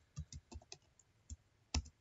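Typing on a computer keyboard while entering code, heard as a handful of separate, close clicks and taps spread irregularly across two seconds, with one louder keystroke near the end.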